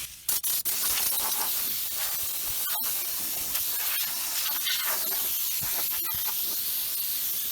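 Homemade rust killer sprays from a hose under a vehicle, a steady close hissing spray with brief interruptions and small clicks as the flow is adjusted.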